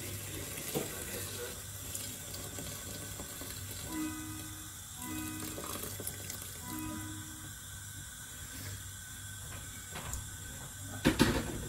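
Kitchen tap running steadily into a pot, filling water for boiling while cooking chicken, a constant close splashing hiss with faint clinks and a brief louder clatter near the end, no speech.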